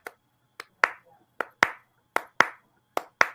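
A sharp rhythmic hand-clapping pattern, the Clipper clap, repeats in short syncopated groups of crisp close claps with brief pauses between them and no voices.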